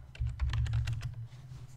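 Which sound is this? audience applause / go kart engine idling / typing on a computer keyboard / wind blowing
typing on a computer keyboard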